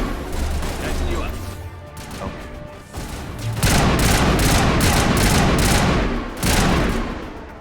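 Mass Effect Legendary Edition combat: bursts of rapid gunfire and impacts, growing denser and louder in the second half, with a person talking over the shooting.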